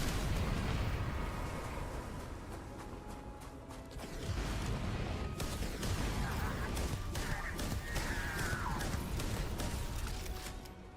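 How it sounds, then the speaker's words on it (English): Ion cannon fire in the Starfield video game during a Shattered Space side quest, a dense rumbling barrage with creaking mechanical tones and bursts, sustained and fairly loud throughout. "No, that guy has a fucking ion cannon."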